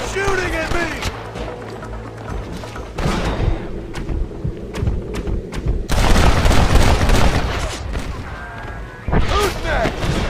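Gunshots and booming impacts from a Western-era firefight in Red Dead Redemption, with bursts of shots and thuds scattered across the scene over a busy game soundscape, while voices shout over the exchange.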